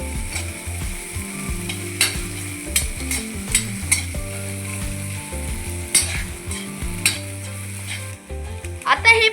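Ginger garlic paste sizzles in a pan of sautéed masala as it is stirred. The steady frying hiss carries scraping and clacking spoon strokes and sits under melodic background music.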